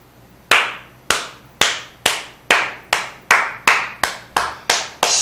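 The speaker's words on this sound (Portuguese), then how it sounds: "Só palmas aqui no estúdio da TV Polo." Applause in a TV studio: about eleven sharp, evenly spaced hand claps in a slow, steady rhythm, each ringing briefly in the room. The claps are loud and close, with no talking.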